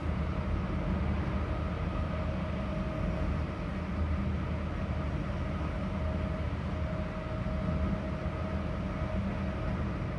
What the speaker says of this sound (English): The sound of the tracks,